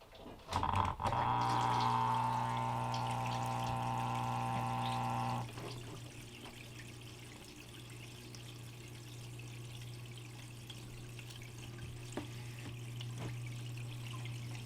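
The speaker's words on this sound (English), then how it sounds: "let's fire up this sluice" Water runs through a gold prospecting sluice with a steady rushing flow. A louder gush and pour at the start settles into a continuous trickling wash, with no voices.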